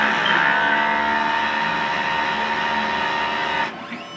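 A printer runs its print head cleaning cycle, a steady whirring mechanical drone with a layered tonal hum that carries loud and even for over three seconds, then cuts off abruptly into a brief clatter.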